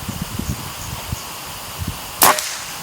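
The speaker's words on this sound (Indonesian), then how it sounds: "Tembakan pertama kena ya." A single sharp shot from an FX Airguns OD 38 PCP air rifle with an AWM-style stock cracks out near the end, after a few seconds of quiet rustling and light taps.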